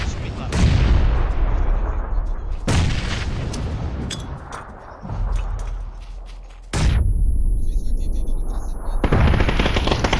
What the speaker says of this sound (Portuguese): Outra granada.